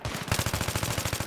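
Rapid automatic gunfire in the shooter game Battlefield 3, a close, loud burst of evenly spaced shots rattling steadily for just over a second.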